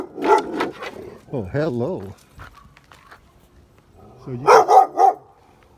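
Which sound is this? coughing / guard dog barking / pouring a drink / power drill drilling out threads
guard dog barking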